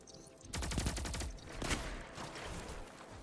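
Rapid bursts of Reckless Oracle auto rifle fire in the Destiny 2 Crucible, a quick string of close shots followed by a shorter second burst, fairly faint overall.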